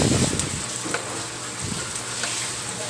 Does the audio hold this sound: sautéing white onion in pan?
yes